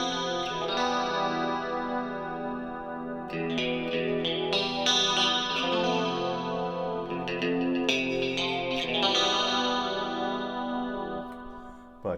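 An electric guitar run through a Line 6 Helix Eternia preset plays chords and notes heavy with chorus, echo and light distortion, giving a synthetic, shimmering, sustained tone with no talking.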